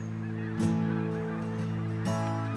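Snow geese honk loudly in two brief calls over a steady low hum at Cap Tourmente, Quebec, with more distant honking faintly in the background.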